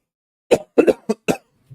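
A short series of about five sharp, close coughs in quick succession, followed by a faint throaty sound.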